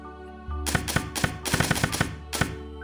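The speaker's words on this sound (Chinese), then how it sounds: "这个声音有点像那种老式胶片电影放映机的声音" In Reverse: 1999, dragging a row of images makes a clattering UI sound like an old film projector, a quick run of rattling clicks over a low steady hum.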